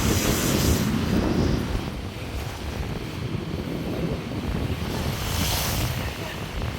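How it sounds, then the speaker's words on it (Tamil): Rough sea at Point Pedro surges and crashes in strong wind, with heavy gusts buffeting the microphone. The roar is loud and continuous and swells in waves. "திடீரென்று அலையெல்லாம் கொந்தளிச்சு பாருங்க ஃபுல்லாக தண்ணி கொட்டி வச்சிருக்கு"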